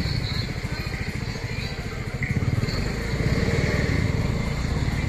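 A motorcycle engine runs steadily at a low, constant putter while being parked, close and continuous throughout, with some background noise.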